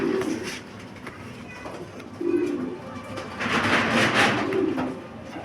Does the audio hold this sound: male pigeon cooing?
yes